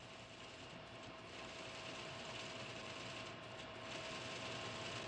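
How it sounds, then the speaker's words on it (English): A computer high-speed printer runs continuously in an office, a fast, even mechanical chatter with a steady hum, quiet and unbroken throughout. "And from there, it goes to our high-speed printer."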